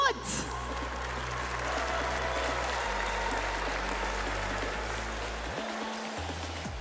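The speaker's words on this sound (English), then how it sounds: "Einen großen Applaus für FUT!" Esports audience at a Brawl Stars finals at gamescom applauding for team FUT, a dense continuous wash of clapping and crowd noise that stays loud throughout, with a low electronic tone underneath.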